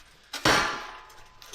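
A metal part from an off-road wrecker build is set down in a welding shop with one loud, close clang and a ringing decay, after a lighter knock just before it.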